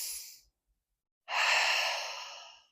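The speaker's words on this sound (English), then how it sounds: "That's a good breath." A deep breath in a calm relaxation exercise: a faint breathy tail at the start, a second of silence, then one long, close, steady exhale that slowly fades, with no talking.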